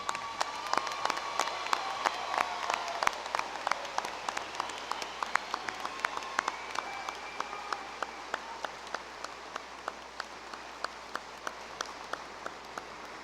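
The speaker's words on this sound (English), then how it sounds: "one more round of applause for our Bachelor of Arts" Applause for graduates at the 2018 Hastings College commencement, dense clapping at first that thins into scattered, distinct claps from a smaller part of the audience as it winds down.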